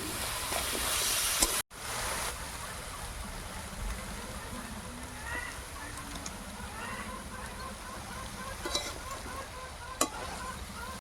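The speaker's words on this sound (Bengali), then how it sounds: "টমেটো কুচি, কেটে ধুয়ে রাখা সবজিগুলো দিয়ে দেবো।" Chopped tomato and washed vegetables hit a hot pan and sizzle in a steady, moderately loud fry, with a sharp clatter near the start and scattered small clinks and pops throughout.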